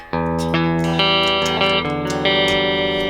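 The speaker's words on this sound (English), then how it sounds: "Let's turn the chorus and echo off." Electric guitar played through a Rockman-like amp model in Amplitube 5 with chorus and echo switched off, ringing strummed chords and sustained notes, loud and up close with no voices.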